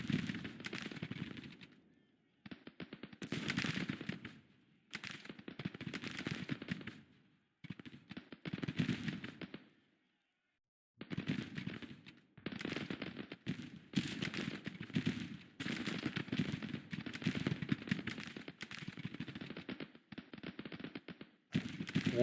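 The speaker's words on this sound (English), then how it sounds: "there goes some of our artillery" Artillery and gunfire in the Civil War strategy game Grand Tactician, repeated bursts of rumbling, crackling shots in clusters separated by short silences, fairly faint and distant, no talk.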